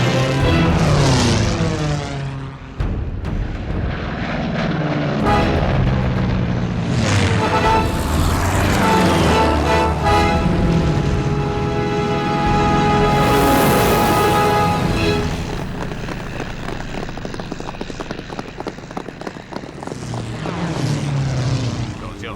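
A propeller fighter plane from a wartime air-combat drama roars loudly and continuously, its engine drone rising and falling as it passes, with a musical score layered underneath.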